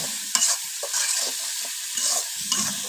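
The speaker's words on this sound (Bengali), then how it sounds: "শেষে এখন মশলাটারে কষাইতেছি।" Masala spice paste being stir-fried in hot oil, a steady close sizzle broken by scraping spoon strokes and soft clinks against the pan across the whole stretch, no voices.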